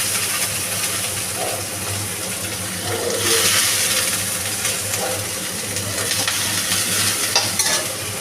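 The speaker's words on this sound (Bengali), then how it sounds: "প্রথমে আমি কড়াইতে পেঁয়াজ দেবো।" Chopped onions hit hot oil in a kadai and fry with a steady crackling sizzle, swelling briefly louder midway as they are stirred, close and continuous with no talk.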